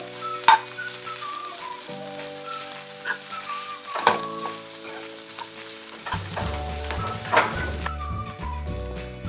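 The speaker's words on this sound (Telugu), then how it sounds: "ఇప్పుడు మ్యాష్ చేసుకున్న ఆలూని ఇందులో వేసేసుకోవాలి. ఒకసారి ఇలా బాగా కలుపుకోవాలి." Mashed potato being stirred into a hot pan for aloo bonda filling, with soft scraping and light sizzling over steady background tones and a few sharp clicks of a spoon against the pan.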